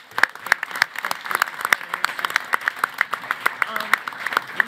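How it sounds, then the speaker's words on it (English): An audience at a Big Data Challenge event applauds, sharp claps ringing out in a steady, moderately loud patter that stays fairly sparse and near throughout. "Big round of applause."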